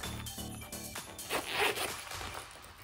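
The zipper on a handbag's inner coin pocket is pulled in a series of quick, raspy strokes close by, followed by a brighter scrape.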